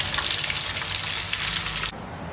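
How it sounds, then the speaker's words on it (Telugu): Fish fries in a pan with a loud, dense crackling sizzle close by. The sound cuts down sharply near the end to a quieter hiss, and no one speaks. "ఫిష్ ఫ్రై అయితే రెడీ అయిపోయింది"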